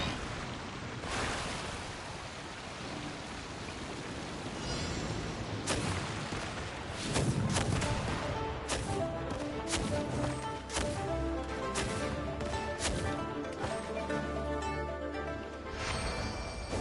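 Explosions in Genshin Impact on PS5 land as a series of sharp bursts and thuds, starting sparse and growing denser toward the end, over a steady washing background of game ambience and music.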